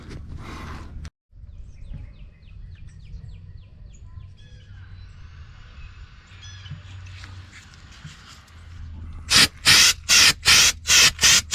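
Undercoating is sprayed beneath a 1987 Chevrolet C-30 dump truck in a burst of loud, close hissing pulses near the end. Quieter creaks, clanks and faint bird chirps come before it.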